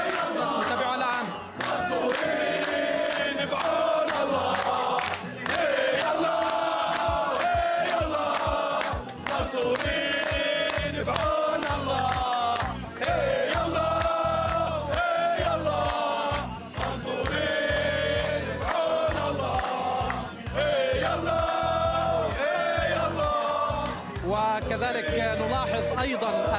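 A crowd of Palestinian football fans in Hebron chants patriotic slogans in unison. The massed voices rise and fall in a steady rhythm with short pauses between phrases, loud and sustained throughout.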